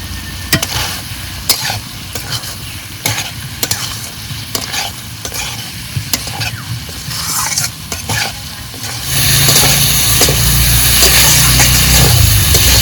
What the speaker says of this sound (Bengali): এবার আলু দিয়েও দু মিনিট কষিয়ে নেব